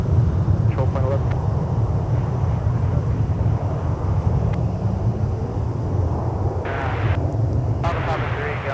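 A Dassault Falcon trijet taxis toward runway 17 for departure at Minneapolis–Saint Paul airport, giving a steady low engine rumble and broadband roar that holds constant throughout, moderately distant and mixed with wind buffeting.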